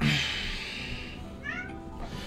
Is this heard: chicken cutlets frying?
no